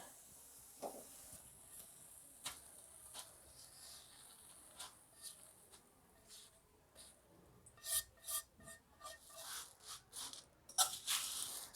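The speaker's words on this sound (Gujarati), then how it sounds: "આ રીતે મિક્સ કરી લઈશું હાથેથી જ" Puffed rice being tossed and mixed by hand with a warm garlic paste, heard as faint, close dry rustling and crunchy rubbing that grows busier toward the end.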